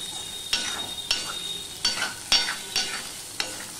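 Flattened rice fries in oil in a kadai as a spoon stirs it, giving six sharp scraping strokes at an uneven pace over a soft, constant sizzle.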